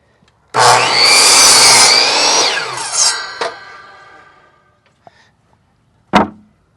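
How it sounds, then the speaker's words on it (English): A jigsaw cuts diagonally through a 2x4 for a dog house roof, a loud buzzing rasp for about three seconds that winds down, followed by a few knocks and a sharp clunk. "I'm using a jigsaw to cut this"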